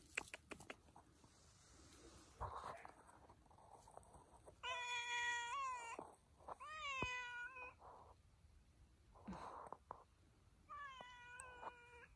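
Black cat meowing, three or four clear, drawn-out meows spaced several seconds apart, close and fairly quiet, with soft rustling and small knocks between calls and no speech.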